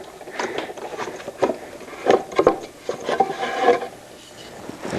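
Close wooden knocks, rubs and scrapes as a piece of wood is worked loose and lifted out of a router jig, irregular handling clatter with a few sharper taps.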